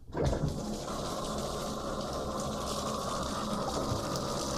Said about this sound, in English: I'm gonna get my bathtub running